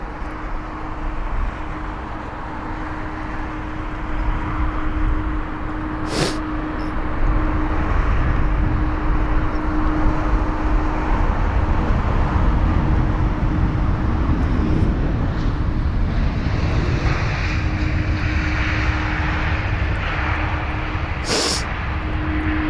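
An Airbus A319 airliner at London Heathrow rumbles as a broad, steady roar that builds after the first few seconds and holds, with a faint tonal whine running beneath it.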